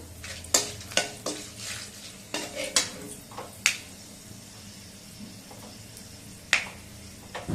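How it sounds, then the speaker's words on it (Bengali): Bay leaves, cardamom, cinnamon and peppercorns dropped into hot oil left from frying potatoes in a kadai, a run of sharp crackles and pops over a low sizzle, close and with no talking. "ওই তেলের মধ্যে আমি দুটো তেজপাতা আর এলাচ দারচিনি আর কয়েকটা গোলমরিচ আমি তেলে দিয়ে দিলাম"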